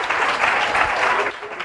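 Church congregation applauding during a Pentecostal service, a short dense burst of clapping that fades quickly toward the end.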